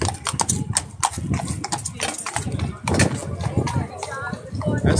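Police horses come through a gate at the Horse Guards, their hooves clip-clopping on pavement in a quick, uneven series of sharp, close strikes, with a crowd talking around them.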